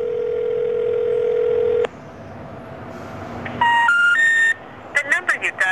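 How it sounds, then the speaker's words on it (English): Phone line tones on a disconnected number: a steady dial tone cuts off, then a rising three-note intercept sequence and a series of short beeps, clear and close with no talk. "The number you dialed is not in service."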